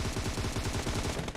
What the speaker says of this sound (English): he is dodging an absolute hail of gunfire at the moment